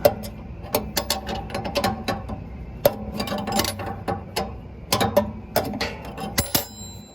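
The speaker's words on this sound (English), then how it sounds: "So you can get at least 1/8 turns in tight spaces. Simply by flipping the wrench over." A wrench ratchets and clicks on a burner orifice nut of a Diedrich IR-12 coffee roaster, irregular sharp metallic clicks and taps in short bursts, close and alone, no talk.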